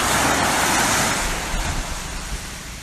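Surf washes onto an empty beach in the Philippines, a broad steady rush of breaking waves mixed with wind buffeting the microphone, loud and continuous for a few seconds, then easing slightly.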